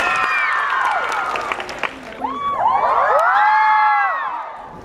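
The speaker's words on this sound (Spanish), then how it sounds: "a quienes recibimos con un fuerte aplauso" An audience at the Lima international book fair (FIL) cheers and applauds a guest author, with excited high-pitched shouts and whoops rising in waves over a steady roar of crowd noise, loud and close throughout.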